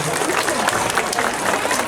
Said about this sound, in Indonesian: Tepuk tangan malih pisan buat adik-adik Yowana niki